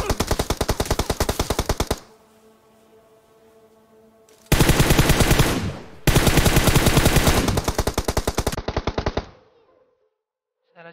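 Rapid automatic gunfire from PUBG Mobile rattles out in long, loud bursts separated by brief quiet gaps, with echoing tails after the volleys.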